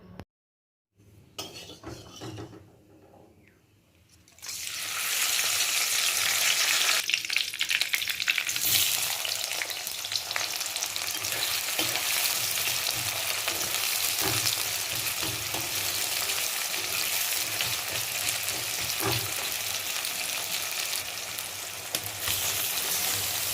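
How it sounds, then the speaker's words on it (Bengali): Chicken curry frying in a pan: after a few quiet seconds and some clinks, a loud, steady sizzle starts and continues close up, with occasional scrapes and knocks of a utensil stirring. "তো এখন চিকেন চলছে রান্না।"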